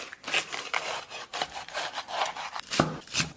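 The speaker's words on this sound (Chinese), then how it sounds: "然后咱们把香菇啊切成小丁丁" A knife chops shiitake mushrooms into small dice on a wooden cutting board, giving quick, steady, close-up strikes with a slightly scraping, woody texture.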